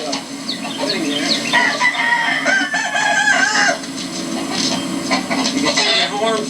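A rooster crows in drawn-out calls with clucking mixed in, close and fairly loud, while a person talks quietly underneath.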